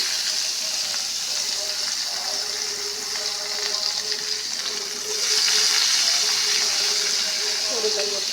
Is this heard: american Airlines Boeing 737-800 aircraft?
no